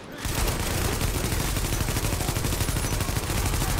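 An automated turret in the video game The Division fires continuously, a loud, dense and unbroken stream of rapid shots that starts abruptly and keeps going.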